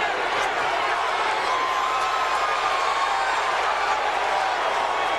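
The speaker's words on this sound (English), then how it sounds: "The crowd's encouraging him." A boxing arena crowd cheers and encourages a fighter, a dense, steady roar of many voices with no distinct breaks, fairly loud throughout.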